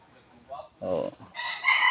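Roosters crow loudly and chickens cluck nearby, overlapping calls rising toward the end with no talking.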